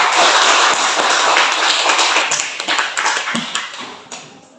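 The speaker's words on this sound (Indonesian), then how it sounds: "kita berikan aplaus" A class gives a round of applause: dense, close clapping from many hands that holds steady for a few seconds, then thins out and fades, with no talking over it.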